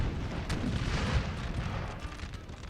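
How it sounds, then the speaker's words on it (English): Cannon artillery in a Napoleonic battle game, a few dull booming shots thudding in quick succession amid rumbling battlefield noise, moderately loud. "this cannon is probably shooting our own troops"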